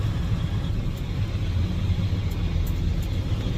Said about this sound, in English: We are all loaded, so now I'm gonna make my way back through the quarry